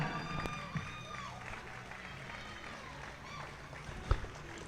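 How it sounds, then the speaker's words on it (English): A crowd at a track cycling national championship fills the venue with a steady, diffuse roar of cheering and scattered applause, heard from some distance. "Crowd loves it. I think we just set a new standard for noise right there."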